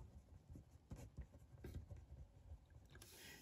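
Pen scratching across paper in a classroom as someone writes by hand, scattered soft strokes and taps, fairly faint with a quiet room hiss behind.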